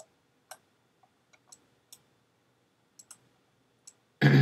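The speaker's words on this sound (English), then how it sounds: "And you just open this, double click." A computer mouse clicks in a quiet room, several sharp, faint, isolated clicks at uneven intervals, some paired closely like double-clicks, before a sudden loud burst of noise at the end.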